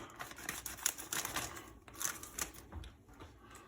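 Scissors snip through the top of a plastic grain spawn bag in a quick series of faint, crisp cuts, close by and quiet, with rustling of the bag between snips.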